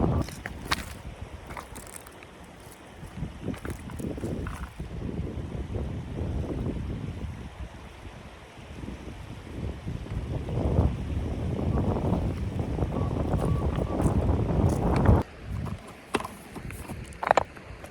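Strong gusting wind buffets the microphone outdoors, a rough rumbling roar that surges and fades, with water sloshing faintly in the background.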